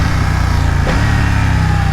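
A 2020 BMW F900R motorcycle engine drones loud and close, with a quick rev blip as the bike automatically matches revs on a gear shift, no talking.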